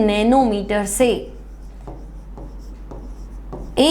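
Marker or chalk strokes scratch across a board during a chemistry lesson on colloids, a series of short, close rubbing bursts between stretches of a teacher's talk.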